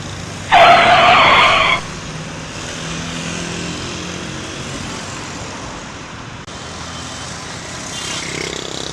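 A motorcycle skids on a road and strikes a man: a loud harsh screech bursts out briefly near the start, then gives way to steady traffic rumble and muffled background voices.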